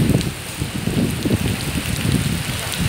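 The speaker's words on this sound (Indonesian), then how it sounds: "Tuh, hujan gede." Heavy rain pours steadily on a Hong Kong street, a dense, continuous hiss with close drops pattering on surfaces, no voices over it.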